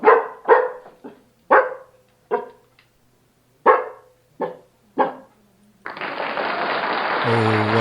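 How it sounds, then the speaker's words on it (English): A Hungarian Wirehaired Vizsla barks about nine times in an uneven string of sharp, close barks separated by short silences, followed by a burst of clapping-like noise at the end. "That wasn't super loud barking."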